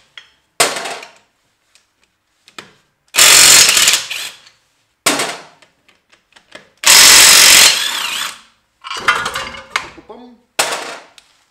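Impact wrench loosening wheel bolts on a VW car, loud bursts of rattling hammering separated by silences, each lasting about a second, close up with brief clicks between.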